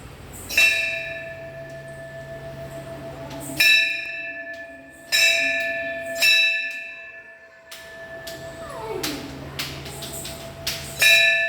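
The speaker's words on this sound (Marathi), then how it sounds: "घंटी वाजत होते" A bell at Shri Kholeshwar temple is struck repeatedly at irregular intervals, about seven bright metallic clangs, each ringing on and fading, with quiet surroundings between strikes.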